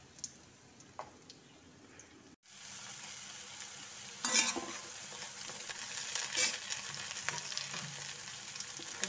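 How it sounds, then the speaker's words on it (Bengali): Food fries in a pan in small batches, first as a faint crackle, then as a loud, steady sizzle with sharp pops and flares. "এগুলোকে ভাজবো, অল্প অল্প করে দিয়ে ভাজবো, সব একসঙ্গে দিয়ে ভাজবো না।"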